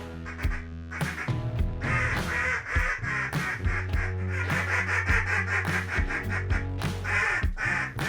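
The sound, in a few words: handmade duck call blown, imitating duck quacks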